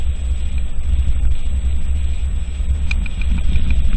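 A 2011 Ford Edge on the move, heard from inside as a steady, loud low engine and road rumble with no speech.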